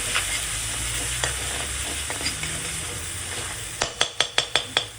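Tomato puree masala simmering in a pan over low gas for a garlic fenugreek dish, a soft steady sizzle with a few light stirs, ending in a quick run of sharp scraping taps.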